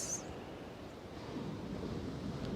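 Ocean waves washing in a steady broadband wash, soft and continuous, with a brief faint high whistle at the start and no voices.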